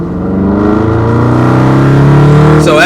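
A Dodge Challenger with its active exhaust disabled accelerates hard, engine note climbing steadily and loudly as it pulls through the rev range, with a brief higher whine near the end.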